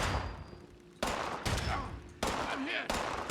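Gunshots in the video game Fallout 76 come as several sharp, loud bursts spaced about a second apart, each with a trailing echo, and faint speech under the gaps.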